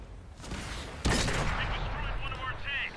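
Tank gunfire in an armored-vehicle battle game on the Live Oaks map, a sharp loud cannon report ringing into sustained rumbling battle noise, with someone talking over it.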